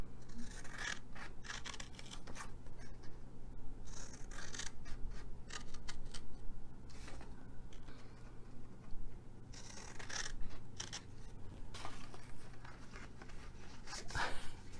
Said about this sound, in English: on the top ones, we're cutting down each one of these two